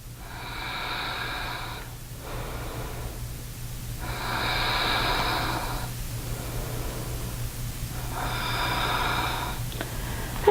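Slow, deep breaths during a yoga flow come close to the mic in three long airy swells several seconds apart, each a soft hiss of air in or out, over a low steady hum with no talking.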